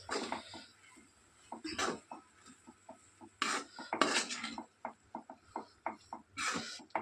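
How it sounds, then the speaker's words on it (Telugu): A metal ladle mixes mango rice (chitrannam) in a pot, giving repeated soft scraping clinks and louder clanks at an irregular stirring rhythm, close up. "మామిడికాయ చిత్రాన్నము గంటతో కలుపుతాను"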